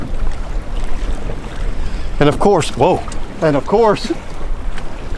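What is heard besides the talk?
wind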